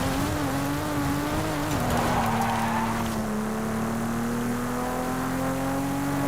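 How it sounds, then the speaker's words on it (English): Toyota Supra racing in Forza Horizon 5, its engine a steady, sustained drone with a slight pitch dip and rise as it holds speed, loud and continuous with no talk. "this little Supra is cool"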